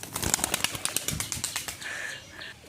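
Pigeons take off and fly, their wings clapping in a rapid run of sharp, close flutters that thins into a softer, steadier whir toward the end.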